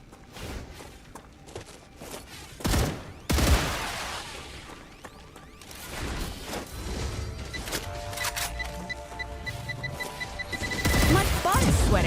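Gunfire in the StarRupture video game: sharp bursts of shots crack out in clusters, some close and loud, others scattered, with a rising barrage toward the end and a person talking intermittently over the action.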